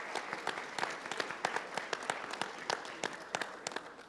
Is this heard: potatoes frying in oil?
no